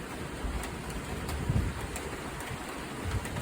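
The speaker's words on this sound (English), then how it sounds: "The wind is actually stronger back here than in the front yard where I just was a moment ago." Strong hurricane wind blowing through a backyard in south central Florida during Hurricane Ian, a steady broadband roar with low gusty buffeting against the microphone and faint rain-like hiss, no voices.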